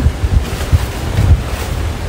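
Strong wind gusts buffeting a microphone beside a fish pond during a rainstorm, a steady low roar with repeated heavy thumps, loud and close throughout with no voices.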